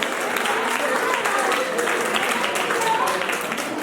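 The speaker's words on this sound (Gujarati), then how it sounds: "એમના માટે એક જોરદાર તાળીઓ થઈ જાય" An outdoor crowd at a community felicitation event breaks into steady, dense applause that holds at an even level throughout.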